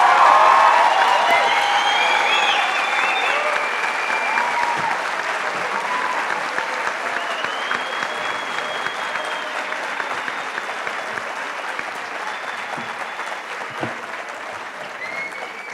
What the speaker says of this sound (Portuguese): por conta da participação da senhora Suzy, eu peço novamente, mais uma, salva de palmas aos moradores do Paraná.